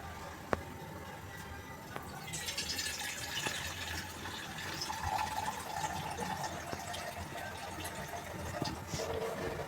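Water poured into a cooking pot on a gas stove, a fairly faint continuous gushing fill with a few light knocks, no talking.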